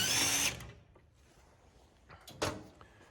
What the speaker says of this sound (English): Cordless impacts are sure handy.